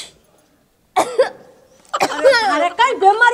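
A person in a Rajasthani comedy skit coughs, one harsh burst and then a rougher, throaty fit, loud and close, mixed with vocal sounds.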